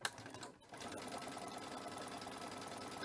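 A sewing machine stitching fabric for patchwork, a short tap and pause, then a fast, steady mechanical whirr of stitching running close and clear to the end.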